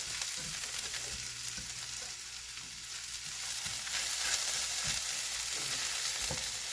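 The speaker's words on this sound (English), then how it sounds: "Going to toast it up just a little bit to get a little bit of a nutty aroma going." Risotto rice toasts in a hot pan for a mushroom, leek and chicken risotto, a steady close sizzle with faint stirring scrapes throughout.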